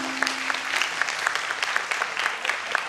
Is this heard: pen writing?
no